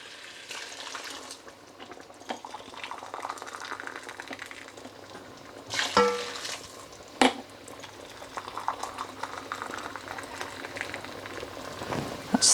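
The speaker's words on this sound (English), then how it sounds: "So just give that a stir." A pot of lamb and potato curry with boiled water added bubbles and sizzles under a spoon, giving a continuous simmering hiss with louder scraping bursts from the stirring.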